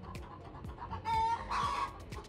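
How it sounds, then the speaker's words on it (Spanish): Chickens kept in central London cluck and squawk in excited bursts, with a couple of sharper, drawn-out calls rising over the flock's busy chatter. "Se volvieron locas las gallinas"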